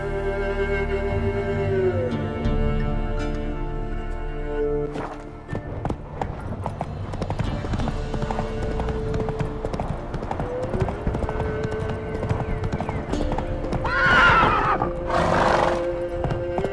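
A horse in The Witcher 3 gallops with fast, steady hoofbeats, then lets out loud, shrill neighs near the end, close and over an ambient game soundscape.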